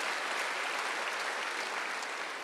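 Steady, dense clapping from a Korean church congregation at a Sunday worship service, a continuous roomful of hands beating evenly throughout with no voices rising above it.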